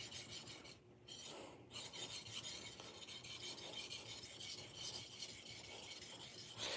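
A kitchen knife is drawn repeatedly across a sharpening stone, giving a soft, steady rasping scrape close by with brief pauses near the start.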